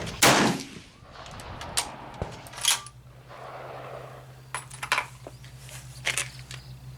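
A single sharp rifle shot from a 1903A4 firing a Hornady 168 grain match load with IMR 4350 powder at an outdoor range, loud and close at the start, followed by fainter handling clicks and knocks.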